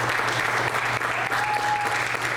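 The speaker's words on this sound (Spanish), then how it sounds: "Denle un aplauso al Señor" A church congregation claps together in steady, dense applause that fills the room for a couple of seconds.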